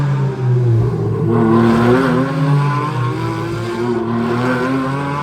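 A GT4 race car passing at a motor race in Thailand, a loud close engine roar with shifting, falling pitch as it goes by, then a sustained buzzing drone with no talk.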